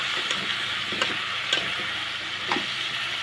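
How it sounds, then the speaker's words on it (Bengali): Washed turnip being stirred into spice paste frying in a pan, a steady sizzle with a few sharp spatula scrapes and taps at intervals, close and alone. "এখন দিয়ে দেবো ধুয়ে রাখা শালগম। মশলার সাথে মিশিয়ে নেব।"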